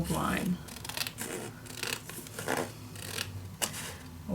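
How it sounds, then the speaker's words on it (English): Scissors snip through craft paper along a folded crease while an explosion box is being made, giving a few close, crisp cutting and rustling strokes with quiet talk in the background. "then I'm gonna cut just along that fold line."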